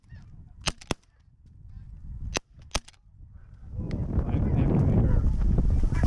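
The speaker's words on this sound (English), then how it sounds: "Single's a dark goose." Geese honk in a few sharp separate calls during a snow goose hunt in Canada, then a steady roar of wind rises and covers the rest, with hunters talking and occasional gunshot-like bangs.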